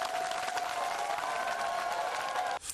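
A crowd applauds at a school visit by a parliamentary official, a dense sustained clapping with faint cheering that stops abruptly near the end.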